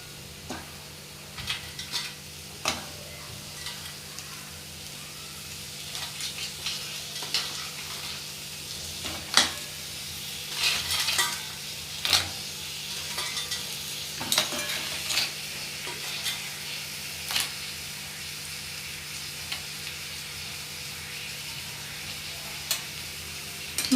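Crabs in their shells fry in masala in a pan, a steady hiss with scraping stirs and knocks of the spoon recurring through, close and without talk.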